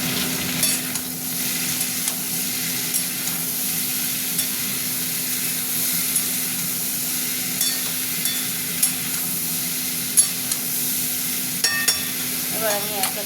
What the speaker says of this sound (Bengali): কলমি শাকটা ভাজা হচ্ছে।